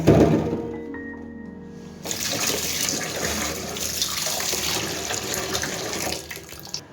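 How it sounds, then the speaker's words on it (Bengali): Running cold tap water splashes steadily into a sink as taro is washed from about two seconds on, with a few handling knocks early and no talking. "এখন এই যে ভালো করে পরিষ্কার করে আমি ধুয়ে নিব ঠান্ডা পানি দিয়ে"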